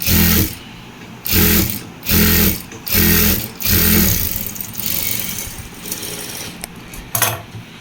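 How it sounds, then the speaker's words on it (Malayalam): A sewing machine runs in short bursts of rapid stitching, stopping and starting several times up close while hemming a folded school uniform, then slows to quieter, intermittent sewing. "ഇതിൻ്റെ ഈ ഭാഗം ഇങ്ങനെ മടക്കി തയ്ക്കുക"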